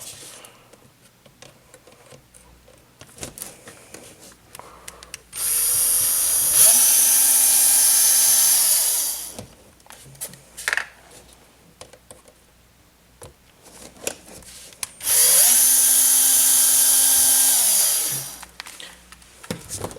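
Power drill backing out short screws from the axle of a 1/10 scale Axial SCX-10 trail truck, two whirring bursts of a few seconds each separated by quiet handling clicks.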